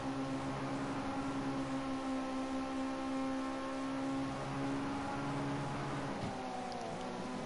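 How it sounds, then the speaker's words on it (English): Ginetta G40 or G50 race car engine on the Bathurst circuit during a reverse-grid round, holding a steady, sustained tonal note at close range with only slight shifts in pitch, no voices over it. "that engine notes really singing along in the G40"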